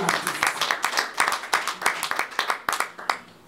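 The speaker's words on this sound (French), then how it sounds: "Nous allons applaudir pour lui." A crowd at a press conference claps in an uneven patter of separate, sharp hand claps, fairly close, greeting a Congolese music star.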